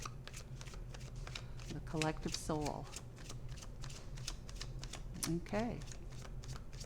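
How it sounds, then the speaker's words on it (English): A deck of tarot cards being shuffled, with steady rapid riffling and flicking and a few fluttering bursts, while a person speaks briefly over it. "shuffle one more time"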